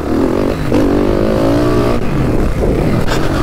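A YCF pit bike engine revs hard and close on a rough, heavily churned dirt track, rising and falling in pitch through repeated throttle bursts over a few seconds.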